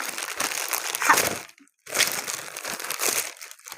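Crinkly plastic packaging is crumpled and rustled up close in two loud bursts separated by a short moment of silence.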